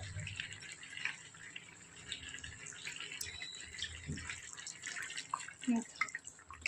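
Water is poured into a pot of home-style chicken curry as it cooks, giving a trickling, splashing run of liquid with a faint voice at times.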